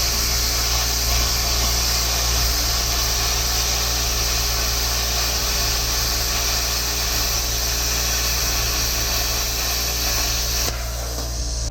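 A power tool runs continuously and loudly while notching parts for a turbo LS engine swap in a car build, with a steady grinding drone that cuts off near the end.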